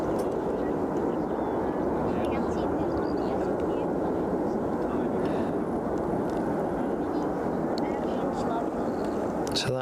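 Airliner at Brussels Zaventem airport pulling up on runway 25 right, a steady broad engine roar heard from a distance with wind buffeting the microphone and continuous rumble throughout.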